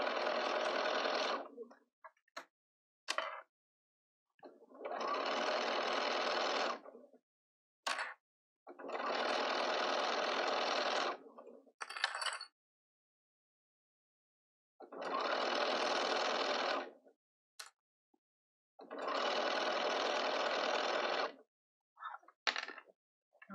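Sewing machine stitching around the edge of a fabric market bag, running in five steady bursts of several seconds each, with short pauses and small clicks and handling noises between runs, no voices.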